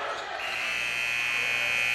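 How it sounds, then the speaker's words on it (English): An end-of-quarter buzzer sounds at a high school boys basketball game between Pine Richland and Butler, a sustained steady tone holding over crowd noise and arena chatter through the second half. "Shot at the buzzer is no good by Singleton"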